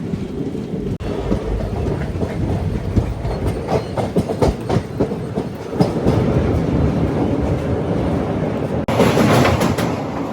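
A Vijayawada–Guntur–Macherla passenger train crosses the Krishna river bridge, its loud, continuous rumble and rattling wheel clatter filling the whole stretch, with a brief dip and then a brighter, harsher roar near the end.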